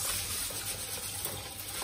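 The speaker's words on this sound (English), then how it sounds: "You continue washing till the water becomes bright." Rice is washed by hand in a bowl of water while making Nigerian jollof rice, a close, continuous sloshing and swishing of water and grains.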